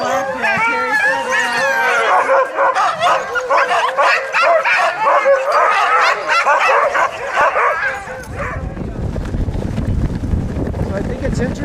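Sled dogs bark and yip loudly and close at a Minnesota dogsled outing, an excited overlapping chorus with whimpers, then a gusty rush of wind noise over the microphone near the end.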